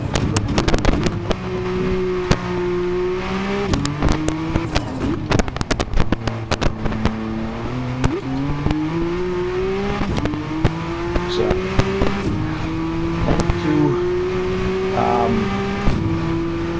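A Porsche 962 race car engine revs hard through a series of rising gear changes, with crackling exhaust pops and sharp bangs, sounding close and loud throughout.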